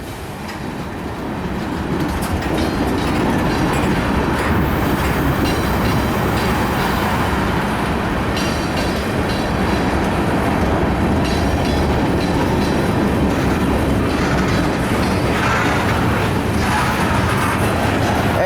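A slow, heavy CSX westbound mixed freight train of over 10,000 tons rumbles past close by, loud and continuous, with wheel clatter, clanking cars and occasional squeals as it rolls on.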